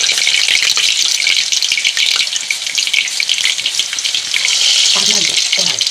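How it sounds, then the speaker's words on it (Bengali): Sliced potato chips fry in hot oil in a kadai with a loud, dense, continuous crackling sizzle, close up and steady, with a hint of other sound near the end. "ডাইরেক্ট তেলে ভেজে দেখাবো"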